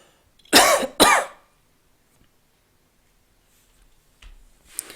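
Two sharp coughs in quick succession, close and loud, followed by silence and a few faint small noises.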